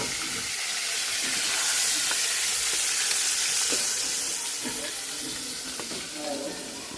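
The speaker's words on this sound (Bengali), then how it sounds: "এই তেলেই আমি এখন আলু ভাজা নিব" Potatoes frying in hot oil in a pan, making a continuous, loud, close hiss and sizzle that swells slightly midway and then eases, with occasional soft pops and clicks.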